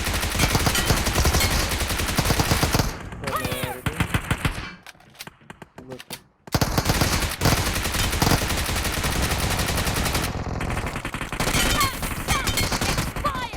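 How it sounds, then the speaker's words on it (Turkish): Rapid automatic gunfire from weapons in a video game, dense and loud bursts with a brief lull midway before firing resumes at full intensity. "Ateş ediyorum ya."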